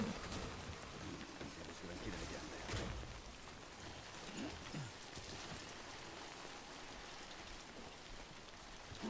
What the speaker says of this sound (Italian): Ah, piove.